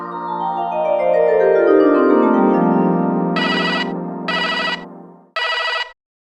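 A telephone rings with a loud electronic tone that glides downward, then gives three short repeated bursts before stopping.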